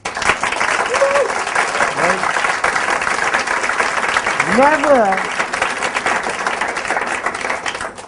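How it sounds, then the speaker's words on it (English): Audience at a company presentation bursting into steady, dense applause that fills the whole stretch, loud and continuous, while a speaker briefly talks over it. "That deserves a round of applause."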